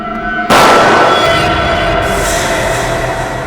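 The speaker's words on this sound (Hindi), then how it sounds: "गोली चलने की आवाज।" A single loud gunshot-like blast in a TV crime drama scene, an abrupt sharp crack followed by a long rumbling decay and sustained noise, close and loud with no talk.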